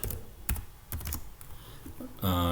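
Code is typed on a computer keyboard in a few separate bursts of clacking keystrokes, close and crisp. A voice comes in at the end.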